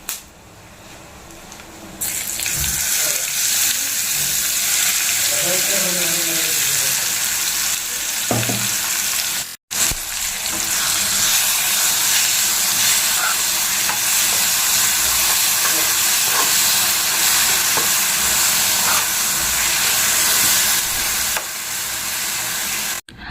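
Tempering for onion chutney sizzles steadily and loudly in a hot pan, a continuous crackling hiss with a brief break partway through.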